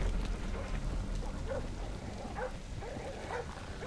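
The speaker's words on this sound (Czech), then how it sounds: "Slyším psi!" Dogs bark several times in Splinter Cell: Blacklist, in the Tehran mission, as short yelps over a steady rumbling game ambience, at moderate distance.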